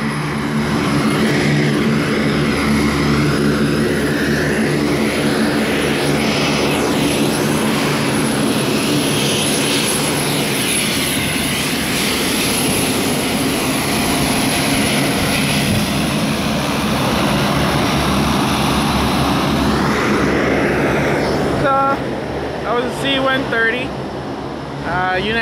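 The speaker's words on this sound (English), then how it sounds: "we have the C-130 that's got a taxi right next to us, so it's gonna be very noisy here for a second" A C-130 military transport aircraft taxis close by, its turboprop engines roaring loud and steady in a continuous heavy drone for the whole stretch, with the propeller pitch shifting slightly near the end.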